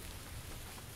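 Steady rain falling in the horror video game The Outlast Trail, a dense, constant hiss of drops with no breaks, soft and even throughout.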